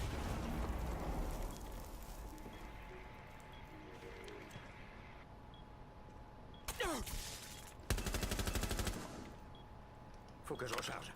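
In a video game, gunfire hits a barricade as several rapid bursts of shots come in clusters over a constant background hum, with voices talking faintly beneath.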